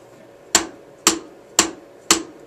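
Four sharp, evenly spaced drumstick strikes on a drum ring out, loud and close, each with a quick decay.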